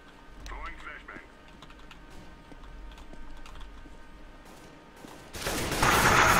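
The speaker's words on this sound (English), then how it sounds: "guns are way too loud" CS:GO gunfire breaks out as a loud, dense burst near the end, after keyboard clatter and scattered quieter game noise, with talk in the background.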